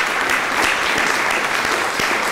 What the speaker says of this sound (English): selection committee, you deserve a round of applause for picking those.